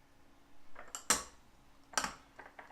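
A spoon scrapes and clanks against a bowl while potato salad with dry mustard and relish is mixed, two sharp clinks standing out among softer scraping sounds, close and fairly quiet.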